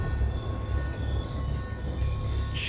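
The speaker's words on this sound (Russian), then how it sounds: "Ни черта не слышно. Поезд мешает." A train rumbles past in Call of Duty: Black Ops 2, a steady, loud rolling clatter of wheels on rails with a faint high squeal near the end and no voices.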